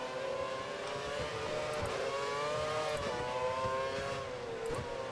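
A Formula 1 race car engine in the F1 2013 video game at the Hungary race: a steady high-pitched engine whine holds a near-constant pitch with small shifts, loud and continuous.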